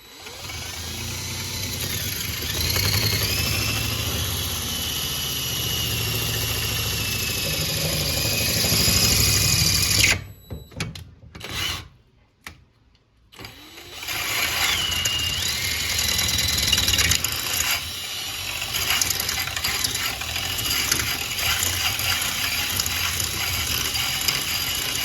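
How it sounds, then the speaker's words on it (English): Power drill running steadily while cutting a circular hole on a DIY boxing reflex dummy build, loud continuous whirring with a brief stuttering stop near the middle before drilling resumes. "you can always just like go in a circle and drill out the sides"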